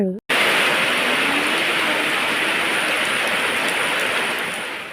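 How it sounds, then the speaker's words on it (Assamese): Heavy monsoon rain pours in a dense, unbroken roar after a brief cut at the start, steady and close throughout. "আৰু বৰষুণৰ আৱাজ শুনিছেনে বাৰু আপোনালোকে? ইমান যে ডাঙৰকৈ বৰষুণ দি আছে"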